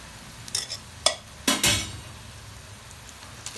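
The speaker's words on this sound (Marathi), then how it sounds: "शाबू टाकून द्यायचा असा मिक्स करून घ्यायचं सगळा" Sabudana is stirred into fried green chillies in a pan, giving a few short scraping and clinking strokes of a spoon over a faint, quiet background.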